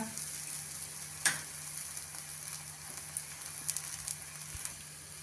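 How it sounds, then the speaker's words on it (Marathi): Rice masala roti fries in oil on a pan, giving a soft, steady sizzle with one sharper crackle and a few faint pops, close and quiet with no talking. "आता दुसऱ्याही बाजूने आपण तेल सोडून रोटी भाजून घेऊया"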